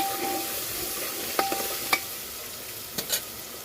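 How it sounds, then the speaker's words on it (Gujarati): Tomatoes cook in hot oil in a pan, giving a quiet continuous sizzle broken by a few sharp spoon-against-pan stirring clicks. "ટમેટા સોફ્ટ ના થઈ જાય ત્યાં સુધી આપણે એને તેલમાં ચડવા દઈશું"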